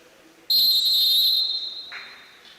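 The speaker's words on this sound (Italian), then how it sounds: "Il fischio del primo direttore di gara Nicolai Bozzolone" A referee's whistle starts a futsal match, one long, loud, shrill blast lasting about a second that then tails off, with faint hall noise around it.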